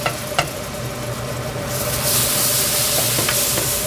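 Flour cooking into a blonde roux in a pan for Texas-style chicken fried brisket steak, a steady close sizzle with a few scraping stirs, the frying hiss swelling louder partway through.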